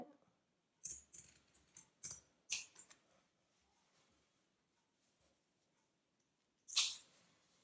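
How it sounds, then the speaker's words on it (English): Scissors snip through fabric in several quick, close cuts, a cluster of short crisp snips followed by a pause and one final louder cut, in a quiet room. "I'm just going to cut off the excess fabric all around."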